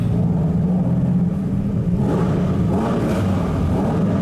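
A Lamborghini Countach's engine rumbles steadily through a tunnel, a loud, enclosed, continuous drone with a slight rise in intensity partway through.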